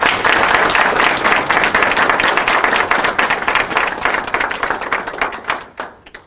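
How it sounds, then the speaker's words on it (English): A crowd applauds loudly and steadily, the clapping dense and sustained before thinning out and fading near the end. "Please give them a round of applause."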